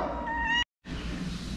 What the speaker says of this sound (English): Jade, what's wrong? Meow, meow.